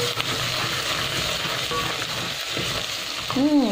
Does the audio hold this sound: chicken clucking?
no